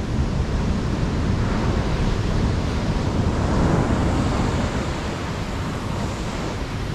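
Continuous roar of surf rolling onto deserted Seruni Beach in Pacitan, a loud, broadband wash of breaking waves that stays dense and unbroken throughout, with no voices.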